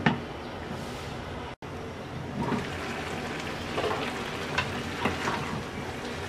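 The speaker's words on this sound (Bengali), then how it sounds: "এবার মিডিয়াম আছে সবজি সিদ্ধ হওয়া পর্যন্ত রান্না করব।" Vegetables, bottle gourd greens with dried shrimp, cook on medium heat in a pan, giving a steady soft sizzle and bubbling with occasional small pops throughout.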